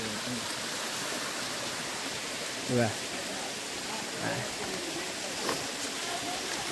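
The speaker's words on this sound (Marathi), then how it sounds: "आणि आता हा छोटासा झरा आहे, तुम्हाला आता मी दाखवतो." A small stream flows on a Konkan hillside trek, giving a steady, soft, hissing rush of water that carries on throughout, while someone speaks briefly over it.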